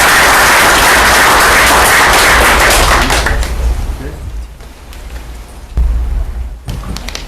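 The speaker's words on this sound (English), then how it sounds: "Give a round of applause for our panelists." An audience claps for a panel of speakers at a student-run event, loud dense applause that swells for about three seconds, then thins into scattered claps and fades.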